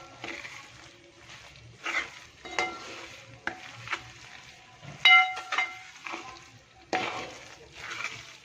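Fenugreek and mustard seeds sizzle in a hot pan for gooseberry pickle while a spoon scrapes and stirs in uneven bursts.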